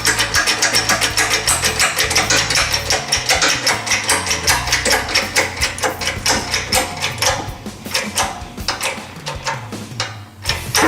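A bearing is pressed into a Honda TRX300FW ATV rear brake panel with a socket in a repair shop, giving a loud, continuous rapid mechanical chatter of hammering or pressing that holds steady and fades slightly near the end.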